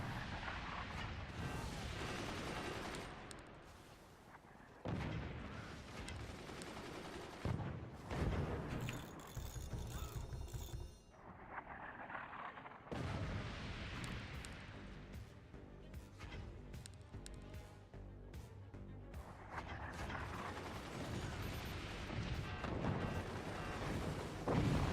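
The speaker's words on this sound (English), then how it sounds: "Go, mortars, go!" Mortars fire in a video game as repeated heavy booms and bursts spread across the scene, mixed with busy game effects and a soft layer of other sounds throughout.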